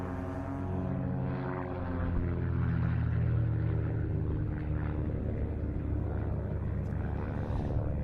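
A display aircraft flying at the Duxford air show, a steady propeller drone and rumble that swells and stays loud, heard from a distance.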